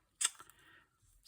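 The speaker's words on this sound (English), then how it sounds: "Little scissors, little scissors." Small scissors make one crisp snip through paper, then a short faint rustle, close and quiet with no talking.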